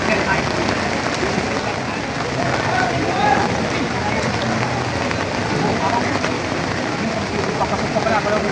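Steady, dense rain falls and patters on surfaces at a cattle market, a continuous hiss with faint voices underneath.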